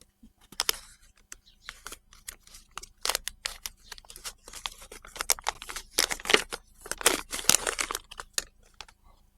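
An air layering wrap is carefully peeled off a shrub branch. It gives close, irregular crinkling and rustling of plastic wrap in short bursts and crackles, with brief quiet gaps between them.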